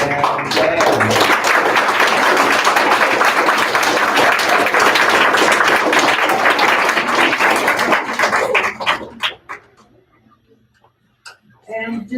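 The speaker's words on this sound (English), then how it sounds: "round of applause for Mariana and Dan" Audience applause for contestants at a spelling bee, a dense stretch of crowd clapping that runs strongly for about nine seconds, then thins to scattered claps and near silence before a brief burst at the end.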